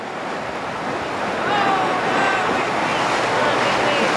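Ocean surf and tide washing around St Michael's Mount, a steady broad wash of waves with wind noise that swells slightly louder midway, continuous and fairly close.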